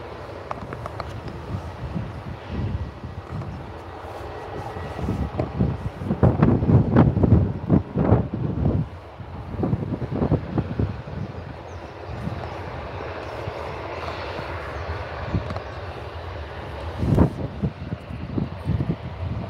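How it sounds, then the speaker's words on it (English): An easyJet airliner bound for Nice rolls for takeoff at Liverpool Airport. Its engine rumble swells and fades in the distance, while gusting wind buffets the microphone. "Here we go, EasyJet on the roll for Nice"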